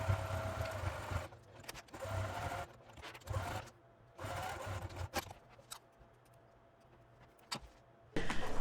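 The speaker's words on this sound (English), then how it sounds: "So just back stitch here, go all around" A sewing machine back stitching around the loop of a portable foldable clothes hanger, running in several short bursts of steady whirring separated by pauses, close and fairly quiet.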